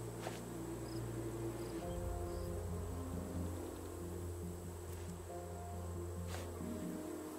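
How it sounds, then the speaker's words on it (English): Bees in the survival game Raft drone in a steady, close, continuous buzz over a constant hiss of background ambience, with no talking. "Got some bees."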